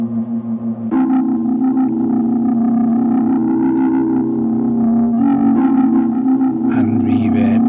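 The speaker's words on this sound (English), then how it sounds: "Let's put some delay on this." A sustained, droning Portatron tape synthesizer sample with repeating delay echoes trailing behind it, the notes smearing into a dense, washy delay tail; a brief bright noise burst near the end.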